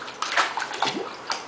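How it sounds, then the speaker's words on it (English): Water splashing in a bathtub or small pool as a young girl plays, a few quick irregular splashes and sloshes close by, with no one talking in this moment. "Splash, splash, splash,"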